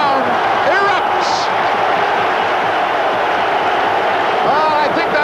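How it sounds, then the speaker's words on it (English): Large football crowd roaring after a goal in a 1970s match, a loud, continuous wall of cheering with scattered shouts and whistles, with a voice speaking over it now and then. "John Ritchie as the crowd erupts"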